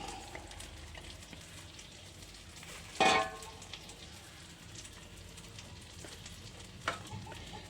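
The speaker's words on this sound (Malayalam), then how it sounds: "ആദ്യം നമ്മുടെ പാവയ്ക്ക ഇതിൽ ഇട്ട് കൊടുക്കാം" Bitter gourd frying in a pan while a Malayalam-style curry is cooked, giving a steady, fairly faint sizzle with one sharp clatter near the start and a smaller knock later, and no talking.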